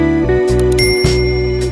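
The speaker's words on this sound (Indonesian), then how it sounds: "nyalakan lonceng notifikasinya" A bright notification bell chimes twice with ringing tones over a steady backing tone, loud and close, with no speech.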